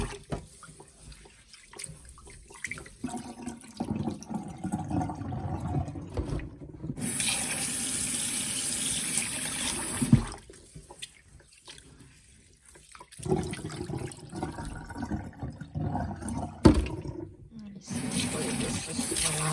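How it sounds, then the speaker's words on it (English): Tap water runs into a bowl of rice being rinsed for chicken fried rice, pouring in steady bursts with pauses between them, while someone talks over the swishing and splashing. "Put in a little bit of water like that. And then I'm gonna mush around the rice."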